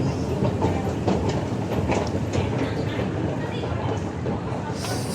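A Kuala Lumpur MRT train runs past in a station with a loud, steady rumble and faint rhythmic clatter of wheels.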